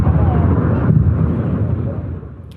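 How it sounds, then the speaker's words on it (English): Missile interceptions by air defence systems over Doha, Qatar: a loud, deep rumbling boom that rolls on and slowly fades over a few seconds. "People in Doha witnessed a series of explosions and flashes in the sky as air defence systems intercepted the projectiles."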